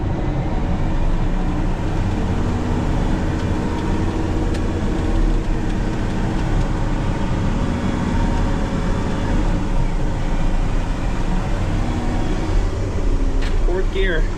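A CAT 631K scraper drives along with a steady, loud, droning engine and cab rumble, constant throughout with no breaks.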